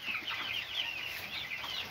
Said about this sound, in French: Qu'est-ce qu'elle me fait la poule là?